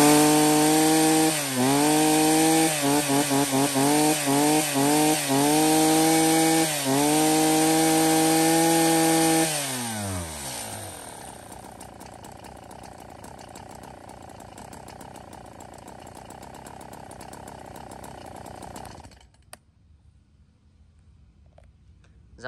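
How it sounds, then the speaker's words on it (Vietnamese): A STIHL 024 AV chainsaw in good condition runs close by, revved hard in several repeated bursts, then drops to a steady, quieter idle for several seconds before the engine cuts off, leaving near silence. "cả chúng em xin phép giật test nổ con này cho các bác nghe qua tiếng máy luôn nhé."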